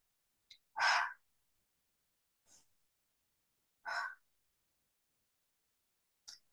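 Slow, deliberate breathing, in through the nose and out through an open mouth. A few soft, airy breaths come alone with long silent pauses between them, two of them stronger exhales.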